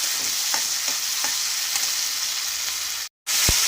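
Spices sizzle steadily in hot oil with onion and tomato for a dried-fish curry, with a few stirring scrapes over the hiss and a brief dropout near the end.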